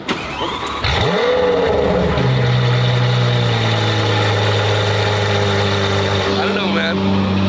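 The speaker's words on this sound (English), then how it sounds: "let's hear Kevin's car start because he's got himself an exhaust on this bad boy." A Lamborghini with an aftermarket exhaust cranks and fires up, then settles into a loud, deep idle that holds steady, with faint voices audible around it.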